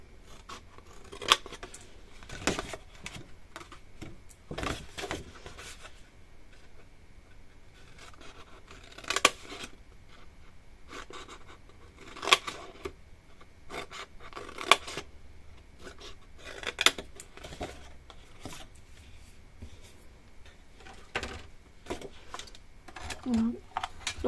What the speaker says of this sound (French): on va découper de chacun sur chacune des marques de plis. Et on coupe ce petit carré